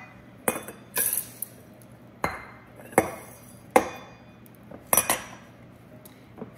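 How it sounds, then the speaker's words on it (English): Oats go into a glass jar for a cookie dry mix in a series of separate scoops, each a crisp clink against glass followed by a short rustle, about six times, close by with no talking. "next we're going to put our oats in"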